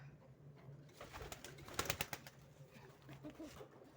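Pet pigeons in a backyard coop, including a shorting pigeon, give soft throaty coos in a short cluster, joined by light rustling and a brief burst of wing sounds near the middle, with no talk.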